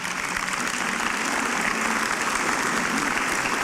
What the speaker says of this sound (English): I think he needs a clap